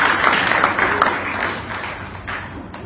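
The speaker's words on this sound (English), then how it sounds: "just give me a clap to the Lord this morning" Congregation clapping during a church service at Souls to Jesus Ministry, a steady, fairly loud patter of many hands carrying on without a break, with a few sharper individual claps standing out.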